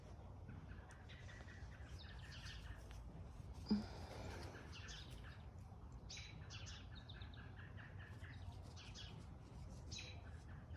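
Birds chirp and sing outdoors in a quiet rural setting, scattered short tweets and calls at moderate distance over faint background hiss, with one brief soft thump partway through.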